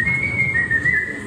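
A person whistles a short melody, a clear, sustained tone with gentle pitch shifts over a low murmur of background noise.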